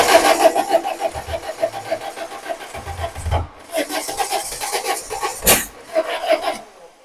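Peugeot 1007 with a 1.6L 16V engine cranks repeatedly without catching, a rhythmic churning starter sound in two close, loud bursts separated by a short pause, with a sharp knock near the end.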